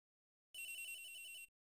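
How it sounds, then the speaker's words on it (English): A cell phone rings in Phoenix Wright: Ace Attorney, a single bright electronic trill lasting about a second, loud and clear against silence. "Cell phone ringing!"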